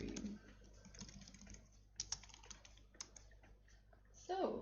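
Quick, light key clicks from a pink computer keyboard tap out a message in an irregular run of close, soft strikes, with a few sharper clacks and a brief voice near the end.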